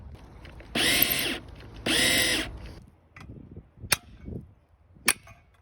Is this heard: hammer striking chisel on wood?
yes